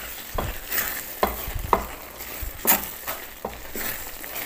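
Biko, sticky rice cooked in coconut milk, being stirred in a pot: a spoon scrapes and thuds against the pot in irregular strokes under a soft sizzling background, close up.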